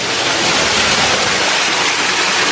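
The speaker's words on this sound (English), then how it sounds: "We are behind the waterfalls right now." Loud, constant roar of falling water heard from behind a waterfall, a dense steady rush close by with no pauses or voices.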